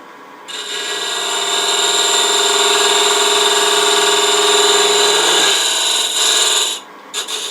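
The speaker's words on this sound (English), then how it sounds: "I'm going to come in with this negative rake scraper, go straight in just to square up the wall here" A negative rake scraper squares up the inside wall of a wooden box turning on a lathe, giving a steady, close, loud scraping whir. It holds for about six seconds, then stops as the tool is withdrawn and the lathe hum remains.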